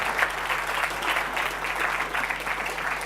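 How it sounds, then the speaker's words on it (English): Steady audience applause from a tech conference crowd at the 30c3 Chaos Communication Congress, dense clapping filling the hall for about three seconds with no talk on top. "this was your first applause"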